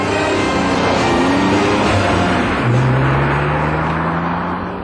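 A Honda NSX sports car cruises on an open road, its engine droning steadily with rising and falling pitch as it accelerates, loud and close throughout with no talking.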